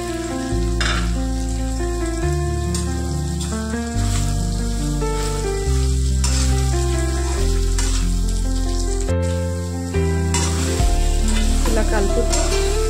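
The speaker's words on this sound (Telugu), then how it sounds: "ఇప్పుడు ఆయిల్ వేడెక్కాక మిల్లిమిల్కలు వేసుకొని వేయించుకోవాలి." Meal maker soya chunks fry in hot oil in a pan, a continuous bright sizzle with occasional stirring scrapes, running steadily beneath loud background music.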